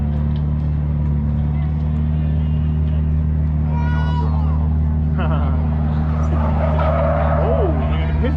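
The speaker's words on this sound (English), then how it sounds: "Just want to make a note that's all-wheel drive drifting." An all-wheel drive stock road car drifting at a Subaru boxer event, heavy steady engine rumble with tire squeal rising toward the end, loud and near, with voices talking over it.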